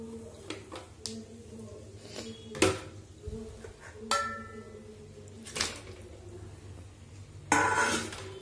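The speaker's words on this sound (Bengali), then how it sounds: "একবারে কড়াইতে দিয়ে তারপর খুন্তি দিয়ে মিলিয়ে দিব" A metal spatula clinks and scrapes against a wok while mixing spices with oil, giving a handful of sharp, irregular knocks over a steady low background hum.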